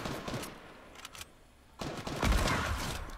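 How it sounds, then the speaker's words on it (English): Fortnite gunfire: bursts of rapid automatic shots in a video game, a short volley, a quiet gap, then a longer sustained burst, fairly faint overall. "I'm still hearing gunshots."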